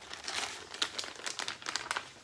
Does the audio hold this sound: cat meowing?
no